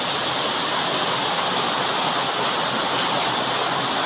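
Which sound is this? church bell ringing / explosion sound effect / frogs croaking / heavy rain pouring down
heavy rain pouring down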